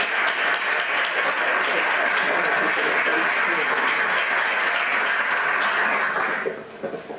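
Audience at a Cambridge, Massachusetts human services event applauding to welcome Ambassador Russell, dense steady clapping from a room of people that holds for several seconds and then fades out.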